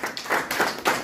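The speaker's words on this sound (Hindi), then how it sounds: "आपकी तालियां बजती है" An audience claps at a district-level Naat and Qirat competition, a few close, uneven hand claps in quick succession.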